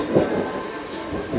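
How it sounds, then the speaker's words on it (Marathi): Train running out of Sewri station in heavy rain, a steady low rumble of wheels and carriage noise up close, with a brief louder swell near the start and no voices. "आता शिवडीवरून निघाले ट्रेनमध्ये"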